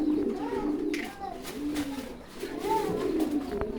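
Several pigeons coo softly and repeatedly nearby at a pigeon farm, their low rolling calls overlapping against a quiet background.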